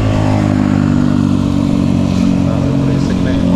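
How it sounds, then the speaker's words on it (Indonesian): A Honda Beat scooter engine drones and putters steadily nearby, a continuous low rumble with slight revving and clatter, while a voice talks over it. "berisik nih motor nih"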